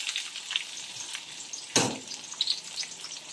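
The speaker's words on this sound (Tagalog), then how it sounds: "Tapos, ilagay na po natin yung sibuyas." Onions frying in a pan in a home kitchen, a soft, steady sizzle with one sharper burst partway through, close and moderately quiet, without talk.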